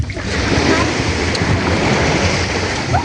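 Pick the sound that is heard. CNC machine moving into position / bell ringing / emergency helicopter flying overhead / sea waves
sea waves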